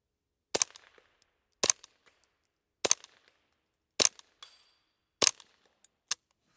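Five sharp suppressed rifle shots from a custom Ruger 10/22 fired at a 4-inch steel plate 100 yards away, evenly spaced with a faint ring after some impacts, no talking.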